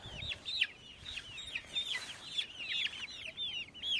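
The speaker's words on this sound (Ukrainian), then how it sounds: "Щось зробилося курчатам, і так вони кусаються і кусаються." Young chickens peep and chirp rapidly and continuously nearby while pecking at each other, a busy overlapping chorus of high-pitched calls.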